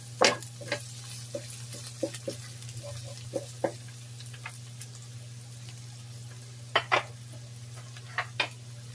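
Onion and garlic sauté in a pan for pancit guisado, with a steady low sizzle and scattered sharp scrapes and taps of a utensil stirring, fairly close and with no talking.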